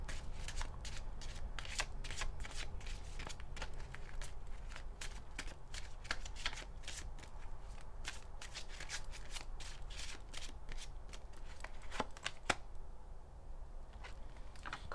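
A deck of tarot cards is shuffled continuously by hand up close, with quick riffles and soft slaps of the cards repeating for about fifteen seconds and almost no talking.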